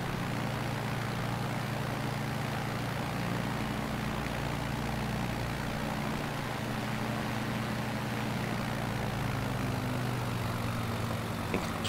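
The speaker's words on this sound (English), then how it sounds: "So we are going to come in for a landing now. See if I can get this landing right." An aircraft engine drones steadily on a landing approach, a continuous low hum with a faint rising tone near the end and no speech.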